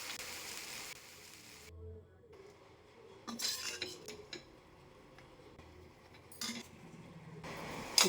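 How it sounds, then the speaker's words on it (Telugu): Fried ingredients for a Bandaru chutney are scooped from a pan onto a plate, with scattered metal clinks and scraping of utensils against cookware, quiet overall with a few sharper knocks spread across the stretch. "ఒక ప్లేట్లోకి తీసి పెట్టుకుందాం."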